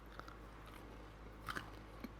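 A few sharp, crisp crunches of someone biting into a freshly baked pecan blueberry muffin with a crispy top. The bites are quiet and close, spaced out over a faint, steady background with no talking.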